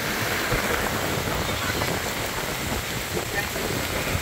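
Rain pours onto the Hàm Luông river while riding in a boat on rough, choppy water, a dense steady hiss of rainfall and water mixed with wind and engine rumble, loud and continuous throughout.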